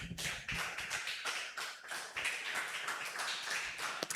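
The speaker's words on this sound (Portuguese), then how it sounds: "Dá uma salva de palmas ao Senhor" A church congregation claps together in a dense, steady patter during a Sunday service. The sound is fairly soft and distant, with no voices rising above it.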